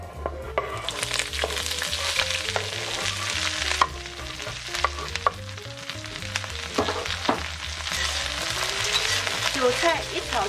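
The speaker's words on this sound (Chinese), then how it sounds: "先炒韭菜" Chinese chives stir-fried in hot oil in a wok give a steady, loud sizzle and crackle throughout, with a spatula repeatedly scraping and clattering against the metal. No one speaks.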